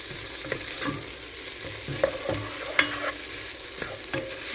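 Vegetables are stirred into split pea soup in a pot, making repeated soft spoon scrapes and knocks in an irregular rhythm over a gentle bubbling hiss, close by with no talking.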